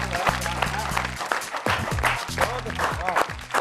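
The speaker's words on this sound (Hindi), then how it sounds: "ये जो तालियां हैं ये स्वतः बज रही हैं" An audience bursts into spontaneous applause at a shayari poetry recitation, dense continuous clapping that briefly dips and swells again over a faint tonal background.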